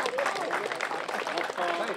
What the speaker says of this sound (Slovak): dajme si ešte raz veľký potlesk pre nich